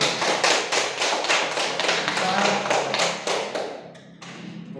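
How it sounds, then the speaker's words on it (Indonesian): Pupils in a classroom applaud with brisk, dense clapping that runs for several seconds and then thins out into a few scattered claps. "Oke, kita berikan aplaus."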